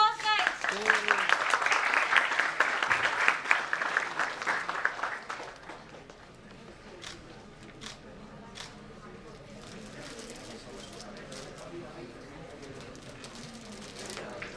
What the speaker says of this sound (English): Let's have a huge round of applause, guys.